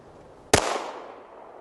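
One loud gunshot in a film scene, a sharp close crack followed by a short decaying echo tail, standing alone without voices.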